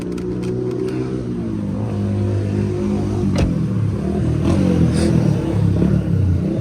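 A Mercedes-Benz C200 W203 engine idles steadily up close, a low even hum with faint clicks and light mechanical clatter over it.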